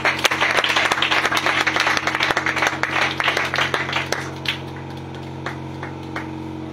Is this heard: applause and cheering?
yes